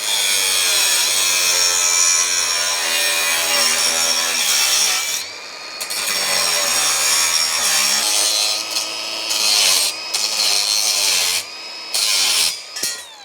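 Angle grinder with a worn cutting disc cutting through material while wiring an off-grid solar build, a loud, continuous high-pitched grinding whine that holds steady for several seconds, drops briefly around the middle, then resumes with short interruptions near the end.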